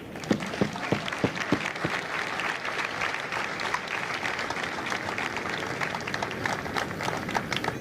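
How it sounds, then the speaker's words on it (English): A large crowd at a Marine Corps recruit graduation in San Diego applauds steadily, dense clapping sustained throughout, with a few sharper individual claps near the start. "would you please join me in a round of applause for the families of Fox Company."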